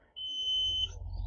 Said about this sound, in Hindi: स्विच को चेक करने के लिए मल्टीमीटर को बजर मोड में आप रखेंगे